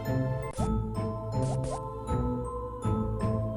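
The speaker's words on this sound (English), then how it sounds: "Drip, drip, drip, the sound of water leaking." Water drips from a leak in an empty camp washroom. A few separate, pitched plinks fall at an uneven pace over a droning, eerie musical bed, with no voices.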